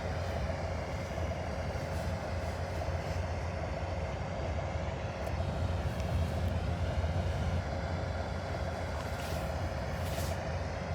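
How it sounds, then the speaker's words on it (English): A train preparing to depart, heard as a steady, moderately loud low rumble with a sustained engine hum, continuous and unbroken for about eleven seconds, with no talking. "He's getting ready to get back onto the train, and he's going to depart."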